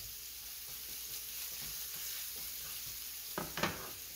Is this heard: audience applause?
no